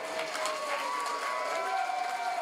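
Crowd at a live wrestling show cheering: a steady, energetic roar of many voices with some shouting rising throughout, heard from a distance.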